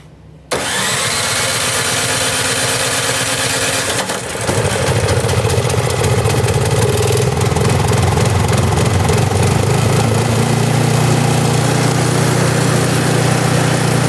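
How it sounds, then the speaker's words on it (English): A snow blower engine fires up almost immediately and keeps running, a loud, close, steady mechanical drone that shifts slightly in pitch as it settles into a continuous idle. "Now that we've done everything we can to hopefully get our machine up and running, we're gonna go ahead and fire it up"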